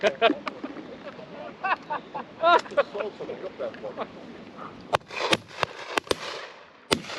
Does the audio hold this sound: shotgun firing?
yes